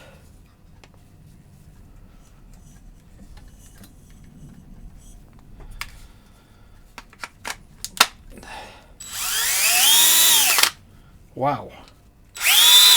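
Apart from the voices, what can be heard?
DeWalt 12V drill running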